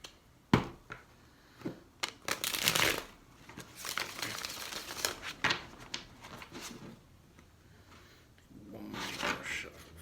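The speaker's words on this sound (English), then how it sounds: "One more shuffle for Sagittarius." Tarot cards being shuffled in several bursts, riffling and flicking close by, with quiet pauses and soft handling noises between.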